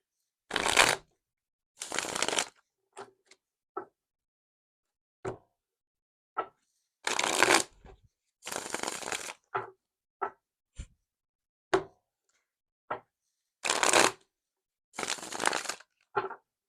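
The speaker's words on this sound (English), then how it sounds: "Shuffles are going much better" Tarot cards are shuffled in repeated bursts of riffling and soft tapping, close and fairly quiet, separated by short pauses of silence.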